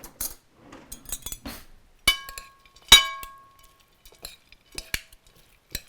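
Two spoons mix zucchini spaghetti in a bowl, producing scattered clinks and scrapes against the bowl, a few sharp ringing knocks among softer stirring sounds, with no talking.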